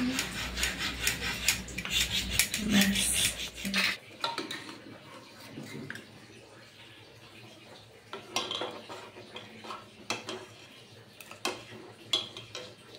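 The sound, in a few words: rubbing sandalwood with dew to make paste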